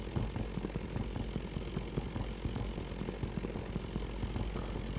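A Minecraft electric chainsaw with a two-stroke combustion engine sound cuts through the base of a tall fir tree, giving a steady, continuous low droning buzz that holds throughout.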